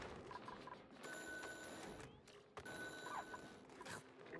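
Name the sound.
phone ringing in video game Oxygen Not Included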